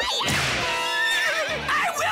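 A cartoon horse pulling a carriage gives a loud, close, drawn-out whinny with wavering pitch, followed by a shorter snort-like neigh, with no speech over it.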